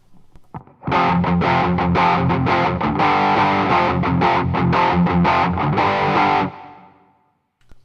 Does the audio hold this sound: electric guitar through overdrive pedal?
yes